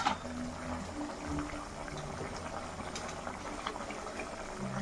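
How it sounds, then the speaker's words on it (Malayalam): A pot of chicken curry bubbles steadily at a gentle boil, with soft popping and gurgling throughout and no voices. "കറി നല്ല തിളച്ച് നല്ല ഇതായിട്ടുണ്ട്"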